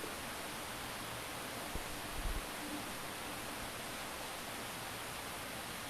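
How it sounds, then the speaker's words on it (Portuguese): Field recording of the Sacarrão river flowing upstream along the Sacarrão road: a dense, steady broadband rush of water, uniform and continuous, with a brief low thump partway through and no voices. "Não é estática, isso é o Rio Sacarrão."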